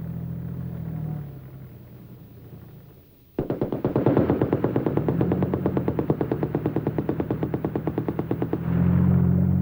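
A tank's coaxial machine gun firing a long, rapid automatic burst after a low engine rumble, loud and evenly paced with echo, then the rumble returns at the end.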